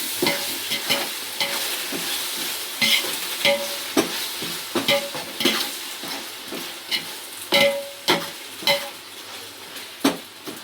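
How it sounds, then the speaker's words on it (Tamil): Ginger and garlic sauté for Manamadurai-style mutton biryani, a bright sizzle punctuated by a rhythmic series of loud spoon scrapes and clanks against the pot, roughly every second, close and without speech. "லைட்டாக போட்டுவிட்டு ஒரு 2 வதக்கு வதக்கிடுவோம்."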